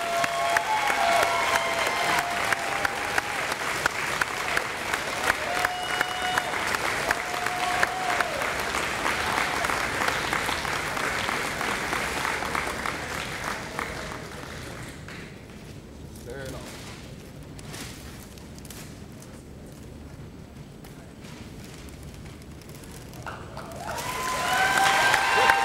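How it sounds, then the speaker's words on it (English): An audience at a school jersey-retirement ceremony bursts into loud, sustained applause and clapping. It fades partway through, then swells again near the end. "Let's give him a big round of applause."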